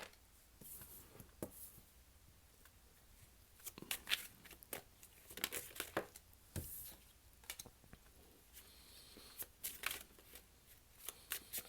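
A deck of tarot cards is shuffled close by in quiet bursts of crisp riffling and flicking, with brief pauses between the runs of shuffling.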